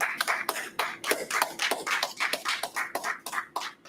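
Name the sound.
audience clapping hands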